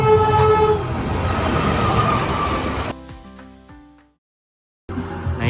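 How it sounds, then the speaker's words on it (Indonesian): A train rumbles past close by with a horn blast and clattering wheels, then the sound cuts abruptly to near silence before noise returns. "Nah ini teman-teman keretanya."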